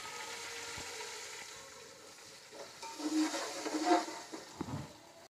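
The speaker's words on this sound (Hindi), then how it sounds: "ये मसाला जल ना जाए इसको मैं थोड़ा सा पानी डाल दूंगी।" Frying masala for beef pulao sizzles in a pan, then bursts into louder hissing and spitting as a little water is added, with stirring clinks, close and unaccompanied by talk.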